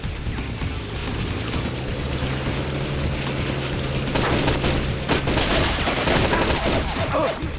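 Gunfire in the video game Infernal, a dense dry rattle of shots over a steady game soundtrack, growing louder and busier in the second half with heavier bursts and impacts.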